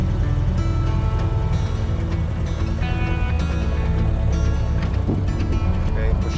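A 1931 Ford Model A pickup truck engine drives along at low speed, a loud rough rumbling drone with rattles and bumps throughout, under wind noise.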